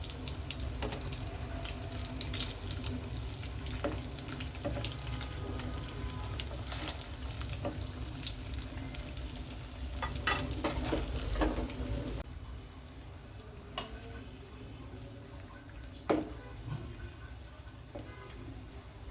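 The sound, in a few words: rice snacks frying crisp in oil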